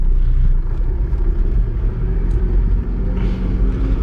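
Low, steady engine rumble from a Fiat Panda 4x4 rolling across grass in four-wheel drive near Val d'Isère, heard from inside the cabin with little else over it.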